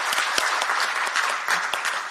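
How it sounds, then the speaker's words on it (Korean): Audience applause at a Korean media-freedom talk concert, a steady dense clapping crowd sustained throughout at moderate loudness with scattered sharper claps. "다시 한번 연대와 격려의 박수 크게 보내주시면 감사하겠습니다"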